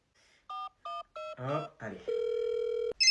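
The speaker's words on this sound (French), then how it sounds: "j'appelle mon téléphone avec le tien" A phone dials out to call a missing phone, with three short DTMF keypad beeps followed by a long steady ring tone; a voice speaks briefly between the beeps and the ring.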